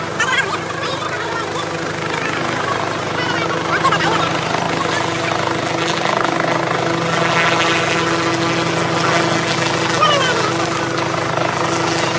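A Nepal Army helicopter flies a flood rescue operation, its steady rotor thrum and engine whine droning loudly throughout, with people talking underneath.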